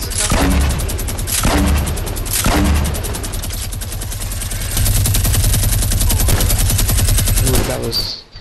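A minigun fires in an online shooter video game, producing a loud, sustained stream of rapid gunfire with a few heavier booms early on, while players talk over it.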